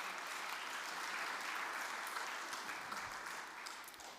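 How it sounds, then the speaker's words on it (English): Steady applause from a sizable crowd at a university awards ceremony, dense and even throughout, tapering slightly at the end. "Can we give a hand of applause to R&I?"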